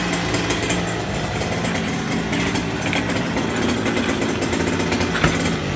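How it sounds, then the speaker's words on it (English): A motorcycle engine runs close by, a loud, steady, raspy drone at an even pitch throughout, with no voices over it. "We got Eric's motor here running."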